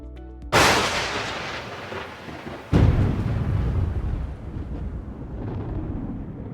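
Thunder in a lightning storm breaks with a sudden loud crack, fades into rolling rumble, then a second close crash follows and rumbles on for several seconds.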